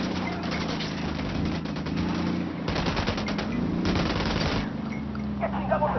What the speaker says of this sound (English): Switch to suppressors. Ready? Open fire.